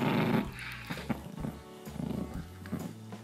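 A pet dog growls low and rumbling indoors in a few rough bursts with short pauses, close and fairly quiet.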